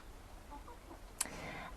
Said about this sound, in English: I can hear the chickens coming.